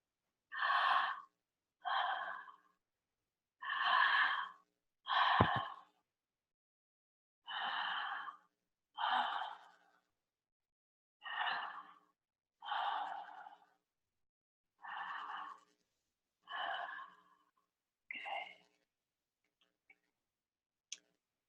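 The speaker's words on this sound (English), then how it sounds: "Keep breathing." Deep, steady breaths during a breathwork exercise, about a dozen long inhale-exhale cycles spaced evenly and heard close and clear, tapering into quiet at the end.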